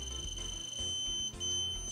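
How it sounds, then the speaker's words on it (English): An eye measurement probe device beeps with a thin, steady electronic tone, faint and continuous against a low background hum, no voices present. "gently touch the probe to the eye and listen for the beeps"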